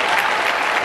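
Audience clapping at a public speaking seminar, a thick continuous burst of many hands, loud and close.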